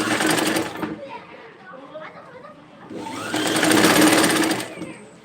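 A sewing machine stitches a lining blouse in two loud, steady whirring bursts, with a quieter pause between them where a voice talks.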